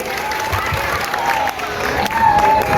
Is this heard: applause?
yes